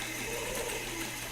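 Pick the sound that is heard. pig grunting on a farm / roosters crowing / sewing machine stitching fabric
sewing machine stitching fabric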